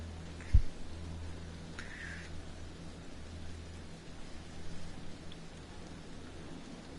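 Steady rain hisses in the video game Hidden Agenda, a continuous soft wash with a brief thump near the start and faint low rumble underneath.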